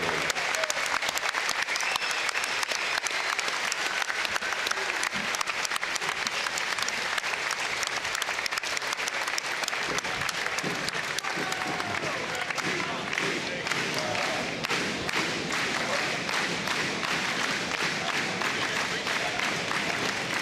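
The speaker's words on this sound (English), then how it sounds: "A round of applause for all of our boxers." Sustained audience applause at a UK versus USA military boxing match between 3 PARA and the 82nd Airborne, dense and continuous throughout with scattered cheers and crowd noise.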